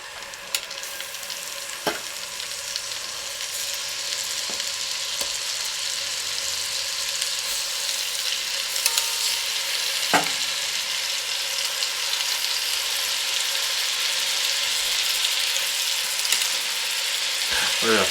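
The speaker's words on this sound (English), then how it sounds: "Now we're going to start adding our beef to the butter." Beef searing in butter in a pan for quesabirria tacos, a steady close hiss and crackle of sizzling fat with a few sharp clicks and clinks scattered through, no voices.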